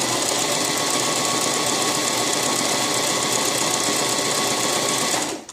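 Brother JX2517 sewing machine stitching one side of a buttonhole, a fast, steady mechanical whir that runs nonstop at close range and then stops abruptly.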